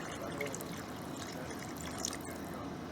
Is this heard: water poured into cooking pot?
yes